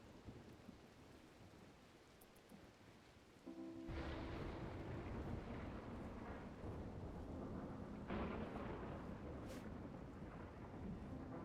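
Flash storm in the video game RimWorld: soft rain hiss swells abruptly into a loud crack of thunder with heavy downpour, followed by a second strong thunderclap later, rain roaring continuously throughout.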